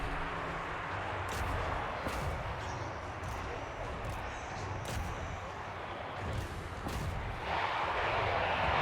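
Rattling guns fire in a Total War: Warhammer 3 battle, a dense stream of repeated sharp gunfire cracks over a continuous roar of battle noise, loud and sustained throughout.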